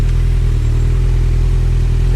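Car engine rumbling loud and close with a steady low throb and rhythmic pulsing as the car creeps forward, no voices.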